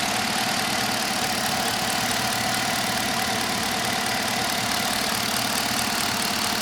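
A 2012 Chevy Caprice PPV with a 6.0-liter engine idles steadily, giving a smooth, continuous rumble that stays at an even level throughout, with no voices.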